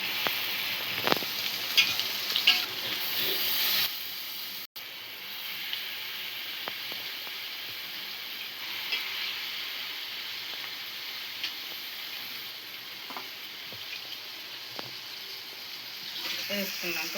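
Soaked poha being stirred and fried in a pan for a mango dal lunchbox dish: a steady low sizzle with occasional scraping clicks of stirring, briefly cut off near the middle, then continuing evenly.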